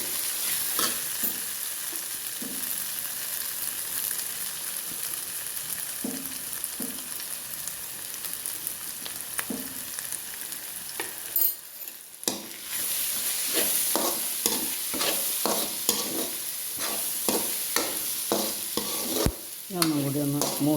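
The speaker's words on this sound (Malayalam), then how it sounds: "ഇങ്ങനെയൊക്കെ ഒന്ന് നന്നായി വഴറ്റിയെടുക്കാം." Chicken roast ingredients sautéing in a pan give a steady close sizzle, with repeated scrapes and clinks of a spoon stirring against the metal, a short dip near the middle, then busier stirring.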